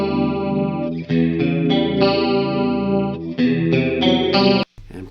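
A distorted electric guitar played through a Marshall JCM800 amplifier rings out in loud, saturated chords and sustained notes, with brief gaps between phrases before cutting off near the end.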